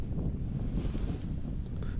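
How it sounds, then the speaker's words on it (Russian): Strong wind blowing outdoors in Mongolia near the town of Altai, with a steady, rumbling low roar buffeting the microphone throughout and no voices. "Но тут ветра сильные"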